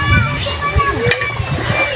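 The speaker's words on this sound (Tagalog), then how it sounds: "Nagtatampisaw po." Someone splashes in cool water while bathing at an outdoor swimming spot overlooking Mag-asawang Bato, with short close sloshes and splatters heard under people talking, including a voice.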